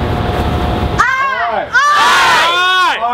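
A school football crowd at Columbus Academy chants the I Believe cheer, many voices joining in loud, rising shouted phrases after a brief stretch of noisy murmur.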